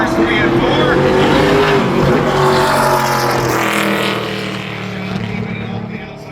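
An ARCA Menards Series race car at full throttle lapping Berlin Raceway in qualifying, a loud sustained engine roar that fades slightly as it heads through turns three and four, with a commentator talking over it.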